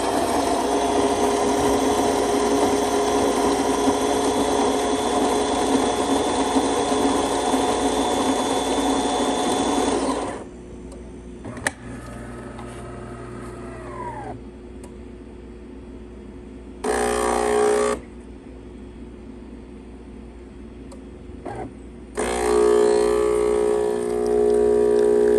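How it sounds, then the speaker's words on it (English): A DeLonghi Magnifica espresso machine, freshly serviced after a full tune-up, pulls a shot: a loud, steady pump and grinding whir for about ten seconds, then quieter dripping and hissing, with short bursts of pump noise returning near the end. "Today we're testing this beautiful DeLonghi Magnifica espresso machine."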